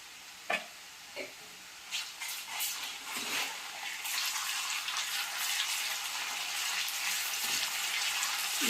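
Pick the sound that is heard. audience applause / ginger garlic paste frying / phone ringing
ginger garlic paste frying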